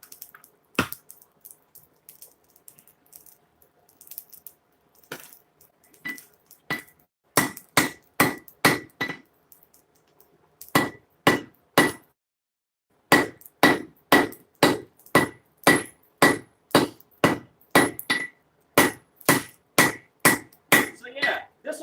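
Hammer blows on a blade being forged ring out in sparse strikes at first, then settle into a steady, loud rhythm of evenly spaced hits, with a brief pause midway before the pounding resumes.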